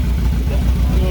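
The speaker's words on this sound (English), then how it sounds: "Guys don't intimidate me with how this car sounds." An Audi S3 engine runs steadily with a loud, deep, pulsing low rumble that continues evenly throughout, close by and heard alone.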